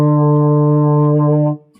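Beginner fifth-grade brass players hold a trumpet E together, a bright, steady sustained note lasting about a second and a half before it cuts off cleanly.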